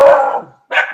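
Puppies bark excitedly indoors: a loud, high yapping burst, a brief pause, then another sharp yip, close and alone with no talk.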